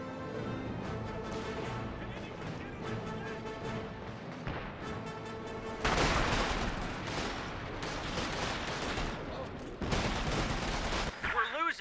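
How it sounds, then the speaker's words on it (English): Battle in Company of Heroes 2 with dense rifle and machine-gun fire rattling continuously, punctuated by heavier thumping mortar impacts from captured mortars, loud and layered over game music. "Pathfinder's firing away. A lot of good mortar hits there from the captured mortars"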